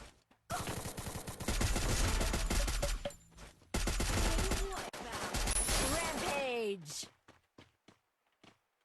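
Gunfire in the battle-royale shooter Free Fire, with dense bursts of shots running through most of the stretch, interrupted by brief pauses and a few scattered single shots at the end, heard close and loud under voices talking.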